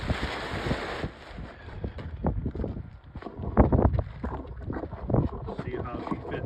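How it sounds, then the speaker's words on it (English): Wind gusts flap and rustle a loose tarp outdoors beside a 1964 Impala convertible under patch panel repair, with uneven bursts of flutter and broad wind rumble rising and falling throughout. "this wind keeps moving this tarp"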